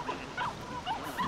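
A dog in the video game The Cave gives a quick series of short barks and yips, about four bursts in close succession, near and moderately loud.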